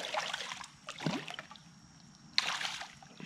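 Water splashes and trickles close by as a caught fish is released back into the water, with one sharp burst of splashing near the end.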